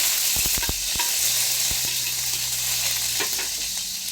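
Garlic and onion sautéing in hot oil, a continuous close sizzle with several sharp clicks and taps of a utensil against the pan, and no voices.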